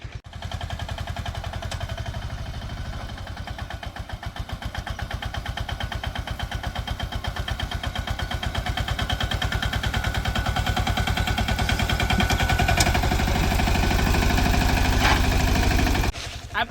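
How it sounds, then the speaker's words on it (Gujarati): A farm tractor on a village farm approaching with a steady, loud, rhythmic diesel chugging that gradually swells as it draws nearer, lasting most of the stretch; a voice talks faintly beneath it. "અને જો આવી રહ્યું છે આપણું ટ્રેક્ટર."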